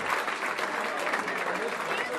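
Comedy club audience applauding a stand-up comedian, a loud continuous burst of clapping from the crowd throughout.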